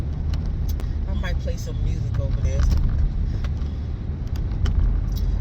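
Road rumble fills the cabin of a moving car, a constant low drone heard from inside, with someone talking over it and light jingling rattles now and then.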